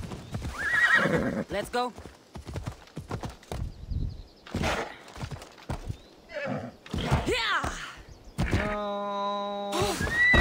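Horse in the Assassin's Creed Odyssey video game, heavy hoofbeats clopping in bursts with a loud whinny near the end, mixed with someone talking over the game sounds.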